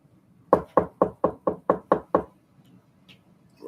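Eight quick, evenly spaced knocks on a door ring out close and crisp, then stop, leaving near silence behind.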